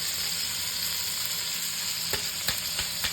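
A ground dry-roasted spice mix of fenugreek, asafoetida and dried chili sizzles in a pan over low heat for pickled eggplant, a steady close frying hiss with a few sharp clinks near the end.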